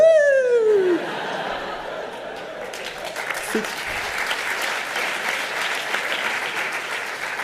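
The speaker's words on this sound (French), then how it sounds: "Vous applaudissez sur n'importe quoi, hein, quand même" Audience at an eloquence contest final breaks into sustained applause mixed with laughter, a dense clapping wash after a brief cheering whoop at the start, filling the whole stretch without talk.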